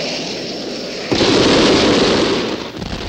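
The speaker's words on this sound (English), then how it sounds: "When I give the word, you light the fuse, and it's kablooey, Tom Slick." Cartoon fireworks go off after a lit fuse: a sudden loud burst of crackling, rumbling explosion noise starts about a second in, after a quieter hiss, holds, and fades near the end.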